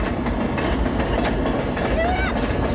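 The Tuckahoe Santa Express train rolls past nearby, giving a loud continuous rumble and rattle of rail cars with a brief faint wheel squeal, while people talk quietly underneath.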